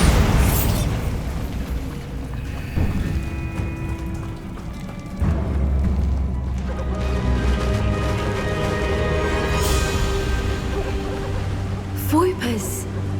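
A Bombarda explosion spell cast in the video game Hogwarts Legacy: deep booming bursts, one strong blast near the start and another midway, rumbling under ambient game music and a brief voice.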